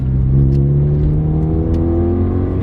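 A Vauxhall Astra GTE 16v engine revs loudly and close, a sustained throaty drone that climbs steadily in pitch as it accelerates, with no voices.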